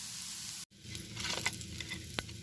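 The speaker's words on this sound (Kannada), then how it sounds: "ಈಗ ಬೆಳ್ಳುಳ್ಳಿ ಹಾಕಿದ್ದೀನಿ ಇದಕ್ಕೂ ಒಂದು ಸ್ವಲ್ಪ ಎಣ್ಣೆ ಹಾಕ್ತಾ ಇದ್ದೀನಿ" Garlic frying in oil in a pan for a ginger-garlic thokku, a steady soft sizzle with a brief break and light crackles and pops throughout.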